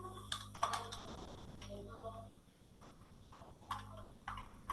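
Quiet clicking of keys on a computer keyboard comes in short irregular bursts, with soft pauses between runs of keystrokes.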